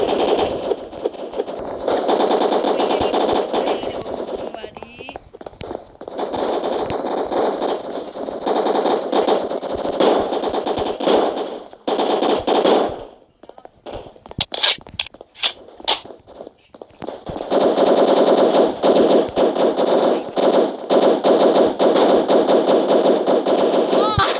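Rapid automatic gunfire and scattered single shots from the online video game Blox Strike, loud and dense in long sustained bursts that break off briefly midway, with footsteps mixed in.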